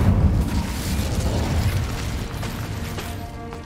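Incendio fire spell in the video game Hogwarts Legacy, a loud, deep burst of fiery explosion that rumbles and slowly fades over a few seconds.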